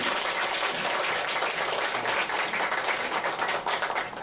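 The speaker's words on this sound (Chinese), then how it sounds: "先以热烈掌声欢迎你。" Audience applause welcoming a speaker at a hands-on dry ice science demonstration, a dense, steady crackle of many hands clapping that stays loud throughout and thins slightly near the end.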